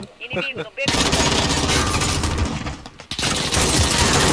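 Sustained rapid gunfire in Call of Duty, dense automatic bursts continuing almost without pause after a brief quieter opening.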